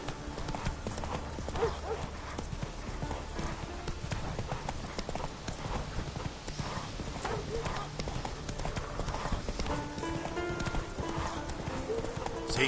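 Horse hooves gallop in the Witcher 3 video game, a fast, steady clip-clop running throughout with occasional whinnies, under game music and ambient sound.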